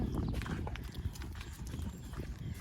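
Hooves clip-clop in an uneven, continuous patter, fairly close, with a low rumbling background underneath.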